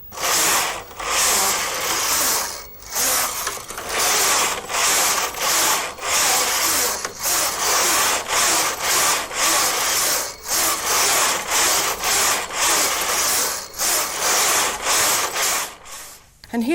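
A Brother KH-950 electronic knitting machine knits lace, its carriage sliding back and forth in repeated rasping, ratcheting passes with short pauses between rows.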